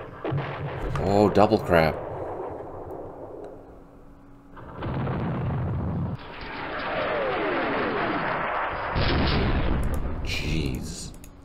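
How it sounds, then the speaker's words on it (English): Artillery barrages in the war game Campaign Series Middle East: booming blasts with long whistling, rumbling tails that swell and fade, repeated several times. Someone briefly speaks over the first shots. "so there's a battalion of artillery right there"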